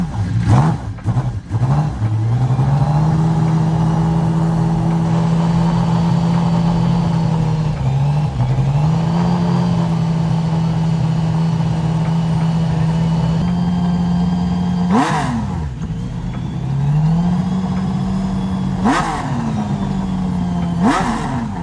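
A McLaren F1 Le Mans race car engine runs loudly and close, holding a steady drone with several sharp revs and throttle blips rising and falling toward the end.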